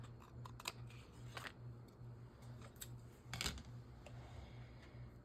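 Scissors trim paper for a junk journal, giving a series of quiet, crisp snips spread unevenly, with one louder cut near the end and no talking.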